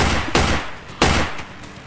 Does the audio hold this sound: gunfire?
yes